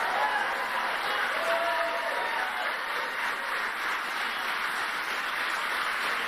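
Standing ovation from an audience, with broad, steady applause and crowd noise sustained throughout at moderate loudness.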